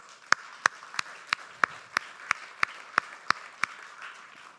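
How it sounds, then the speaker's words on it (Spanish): A congregation at a Spanish-language worship service claps in unison, about a dozen sharp, evenly spaced beats over a low murmuring room background. "Dale un aplauso al Señor."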